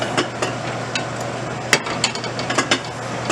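Tortilla with filling placed into a preheated hot pan, giving a steady, close sizzling hiss throughout, dotted with a few sharp clinks of a utensil against the pan.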